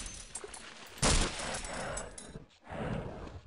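Shotgun blasts in the video game Half-Life: two loud, sharp shots about a second and a half apart over steady in-game background noise, the first the harder and the second tailing off quickly.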